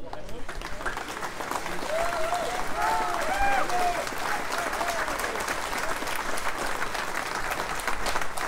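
Audience applause at the GGR2022 prize giving, sustained clapping from a crowd indoors with a few voices calling out over it, continuing steadily throughout.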